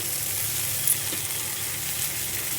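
Fresh coriander fries with chillies in a hot pan for a village-style buttermilk rasam, giving a steady, even sizzle that hisses on unbroken with no talking.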